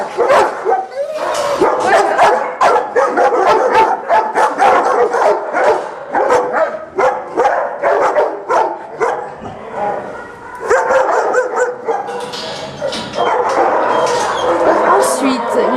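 Many dogs bark loudly at an animal shelter, a dense chorus of close, overlapping barks and yips with occasional whimpers, continuous throughout with brief lulls, while a person talks underneath.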